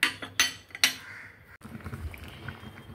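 Spoon clinking against a cooking pot while ground spice mix is stirred into sukto, Bengali mixed-vegetable curry, with three sharp metallic knocks followed by softer scraping and sloshing.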